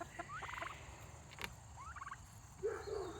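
Kentucky Bourbon Red turkeys gobble twice in quick rattling bursts at moderate distance, followed by softer fowl calls near the end over light outdoor background noise.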